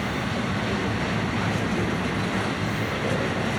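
A Florida East Coast Railway train rolls past close by, a steady broadband rumble and rush of wheels and cars that holds loud and even throughout with no voices.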